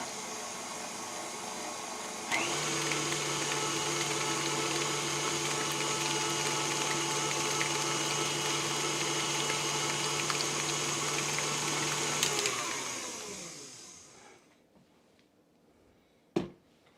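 An electric hand mixer whirs steadily for about ten seconds while mixing egg and cream cheese crust batter for a pizza bake, with a constant motor hum and high whine. It then winds down to quiet, followed by a single sharp knock.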